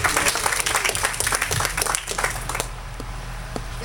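Applause from an audience at a college and career prep night at a ministry, dense clapping with scattered cheers that thins out toward the end, with a low hum and some background voices beneath.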